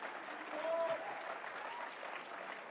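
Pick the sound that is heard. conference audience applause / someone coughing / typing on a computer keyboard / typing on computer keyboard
conference audience applause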